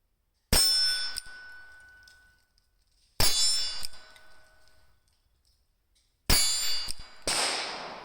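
Ruger Super Wrangler revolver firing .22 Long Rifle rounds at a range, three sharp separate shots a few seconds apart, each ringing out with a metallic decay, close and loud.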